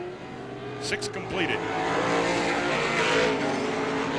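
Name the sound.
pro stock race cars racing at Star Speedway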